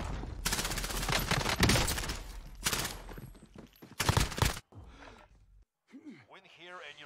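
Gunfire from the Call of Duty: Warzone video game, with dense loud bursts of rapid shots and a few sharp blasts, then a quieter stretch where a voice speaks near the end.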